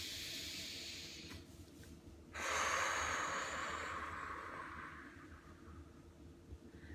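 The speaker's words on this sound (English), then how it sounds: "Okay, deep breath." One slow, deep breath, drawn in with a soft hiss and then let out in a long airy exhale that swells and fades, close and quiet, with no talking.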